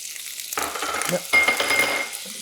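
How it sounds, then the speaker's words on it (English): A sizzling pan of sauce for crispy flounder fillets, taken off the fire and swirled fast, giving two close bursts of crackling sizzle that rise and fade unevenly over a couple of seconds. "we're going to take it off the fire a bit and whirl it around really fast"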